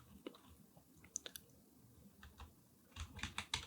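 Typing on a computer keyboard while setting up a Gradle path variable on Windows 11: sparse, quiet key clicks scattered through the first half, then a quicker, denser burst of keystrokes near the end, close by.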